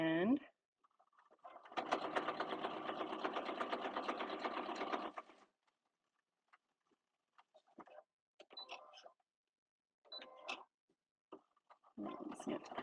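A sewing machine stitches a kitchen sponge in one steady run of about three seconds, followed by short separate bursts of needle chatter and handling clicks.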